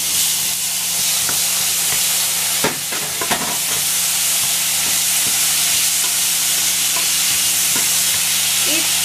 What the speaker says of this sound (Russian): Когда чесночок так уже поджарился, добавим паприки. Перемешаем